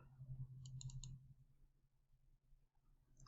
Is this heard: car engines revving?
no